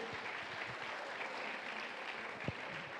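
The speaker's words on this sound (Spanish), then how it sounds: "Un aplauso más fuerte, por favor." Steady applause from a church congregation, soft and somewhat distant, a continuous patter of many hands clapping throughout.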